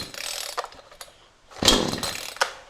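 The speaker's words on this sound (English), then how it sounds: "Chain brake on, choke out, saw is on." Brand-new gas chainsaw, bargain model for cutting firewood, starting with chain brake on and choke out: short bursts of engine noise, a pause, then a louder roaring run with a second surge near the end, close and alone.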